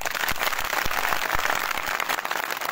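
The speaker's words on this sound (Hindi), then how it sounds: "इनके लिए जबरदस्त तालियां बजाए।" Crowd applause at a BJP election rally in Tiuni, a dense outdoor burst of many hands clapping at close range, with a few sharper individual claps standing out, continuous through the short moment.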